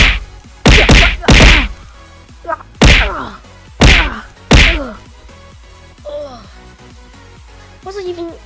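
Punches land in a MultiVersus video game fight: a run of loud, sharp whacks and thwacks in quick bursts, followed by softer game effects and short voice grunts.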